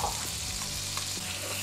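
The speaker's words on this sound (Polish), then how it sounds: "Por będę podsmażał jakieś 5-6 minut, obracając co chwileczkę." Sliced leek fries in butter in a pan, a close, steady sizzle and crackle throughout with no talking.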